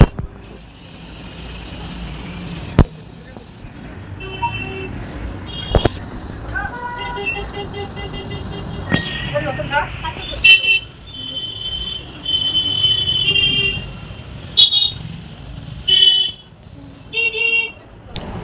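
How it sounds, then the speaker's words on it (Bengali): Traffic on a busy main road beside a railway level crossing in front of a temple: passing vehicles rumble steadily while several sharp, near horn blasts and high squealing tones cut in repeatedly, with no speech. "এত গাড়ি যাচ্ছে আর গাড়ির আওয়াজ, কিছু করার নেই"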